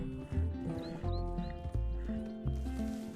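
Horse hooves clip-clop in a steady rhythm in Red Dead Redemption 2, close and clear over tonal background music, with brief whinnying sounds mixed in.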